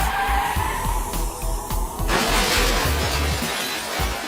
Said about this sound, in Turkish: Kaza oldu.